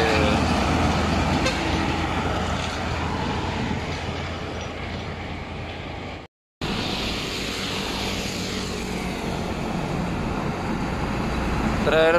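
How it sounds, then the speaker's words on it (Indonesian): Heavy truck towing a trailer roars past on the Pantura highway with a loud horn blast, a steady close rumble that cuts out briefly midway and swells again. "Truk gandeng guys."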